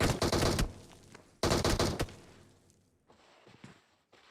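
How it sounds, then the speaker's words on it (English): Automatic gunfire from a PUBG-style first-person clan match comes in two loud bursts, then fades to softer thuds and distant shots. "But that's not going to stop Diablo there as they try find a couple shots onto Gunners."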